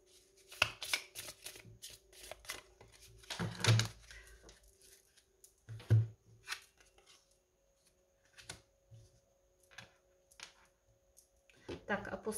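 Shamanic oracle cards are shuffled in several close, rustling bursts between pauses, with a soft speaking voice in the quiet gaps.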